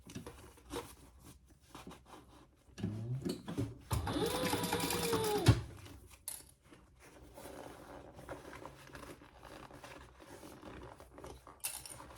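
A sewing machine stitches a fabric pouch in one loud, rapid whirring burst of a couple of seconds, with quieter handling clicks and rustles before and after.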